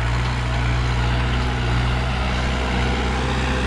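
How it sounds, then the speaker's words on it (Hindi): A New Holland 5630 tractor engine runs in four-wheel drive out on a field, a loud, steady low diesel drone held close and unbroken with no voices. "फिलहाल ये फोर व्हील ड्राइव में चला हुआ ट्रैक्टर भाई"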